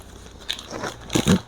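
Crunchy bites into gluten-free, Baja Mango Dorito-crusted fried chicken, close up, with a couple of loud crackling crunches near the end over a quiet background.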